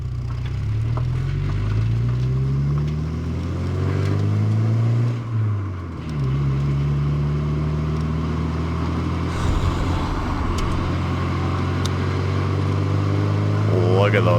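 A 4-cylinder car on a morning drive through European mountain roads, its engine droning steadily with rising and falling tones as it shifts through gears, close and continuous throughout.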